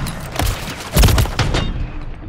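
Gunfire from a sniper rifle fired from the hip in Call of Duty, a burst of sharp booming shots and thuds, loud and close, in a short intense exchange.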